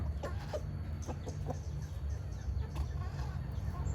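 Chickens clucking near a rural Thai home, several short clucks scattered over a steady low background hum.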